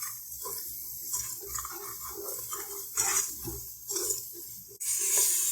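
Water is added little by little to masala sizzling in a pan while cooking beef paya, giving splashes and bursts of hissing sizzle between quieter bubbling, with a loud spitting surge at the end.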